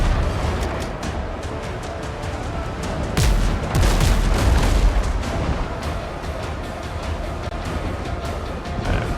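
Ship cannons fire in the naval video game WindRose: a few heavy booms land in a cluster near the middle, over a steady rumbling sea-and-battle backdrop with no talking.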